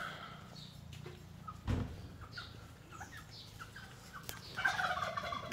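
Turkeys gobble in short bursts with chattery calls at a rural countryside home, a few nearby and faint, plus a soft thump partway through.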